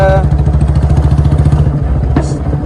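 Royal Enfield Bullet motorcycle, a BS4 model, running close by with a steady thumping exhaust beat and rapid crackling pops like firecrackers, loud throughout and without speech.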